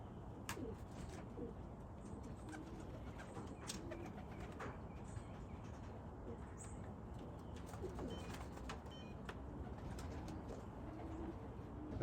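Racing pigeons returning to the loft after a 90-mile race coo softly amid scattered chirps and an occasional wing flutter, over a constant outdoor background hiss.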